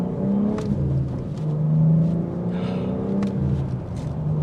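The engine of a 2022 BMW M4 with manual transmission pulls under throttle from a lower gear, a steady close rumble with rising and swelling engine tones and no talking over it.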